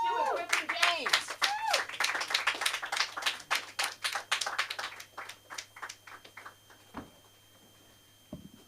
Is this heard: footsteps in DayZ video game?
no